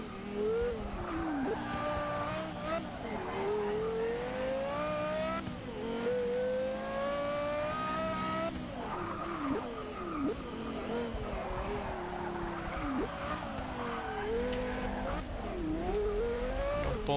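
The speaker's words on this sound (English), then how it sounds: "this Carrera GT isn't the easiest of the cars from Porsche" Porsche Carrera GT engine from Forza 6, revving hard through repeated upshifts and downshifts with rising whines, tire squeal on corners, loud and continuous throughout.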